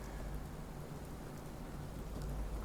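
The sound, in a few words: rain falling in the video game Fallout 4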